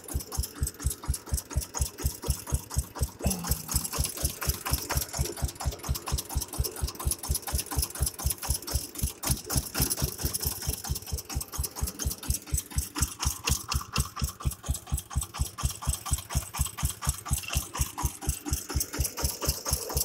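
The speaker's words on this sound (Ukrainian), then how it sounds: "Так, трактор працює." A Forte 181 mini tractor's engine runs at a steady idle, a near, rapid, even chugging of pulses with a light mechanical rattle, continuing unbroken throughout.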